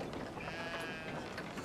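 Sheep bleating in a co-op adventure video game, a short, thin cry over steady game background noise.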